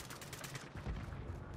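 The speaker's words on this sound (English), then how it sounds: "I hear gunshots." Rapid bursts of gunfire crackle continuously, layered shots blending into a dense, moderately loud barrage with no voices.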